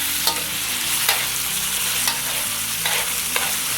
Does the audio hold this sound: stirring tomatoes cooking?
yes